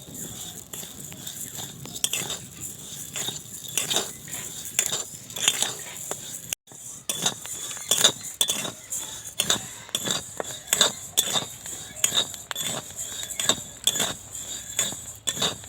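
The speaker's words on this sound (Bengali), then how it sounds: "এইরকমভাবে নেড়ে নেড়ে চালটাকে" Rice dry-roasting for crunchy chal bhaja is stirred in a pan, giving a steady run of soft scrapes and small clinking taps at a quick, uneven rhythm, fairly close and moderately quiet.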